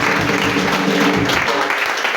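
A church congregation claps together in praise, a dense, even burst of applause filling the room for a couple of seconds.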